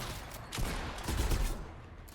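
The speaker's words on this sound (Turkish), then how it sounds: "Burada sıkıyor, bana mı sıkıyor?" Rapid gunfire bursts from a Fortnite match, a few loud volleys clustered close together over steady background game noise.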